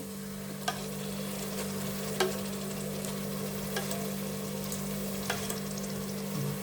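Yogurt is stirred into a frying chicken biryani masala of tomatoes, mint and coriander, giving a steady low sizzle with a spoon scraping and clicking against the pan every second or so, alone without talk.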